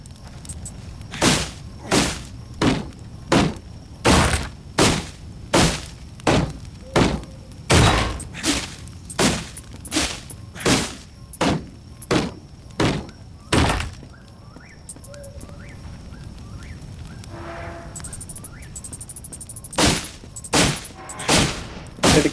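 Walls being smashed in the video game DYSMANTLE: a long series of heavy, evenly spaced thuds and crunching breaks, about twenty strikes, loud and close, with a short quieter gap near the middle.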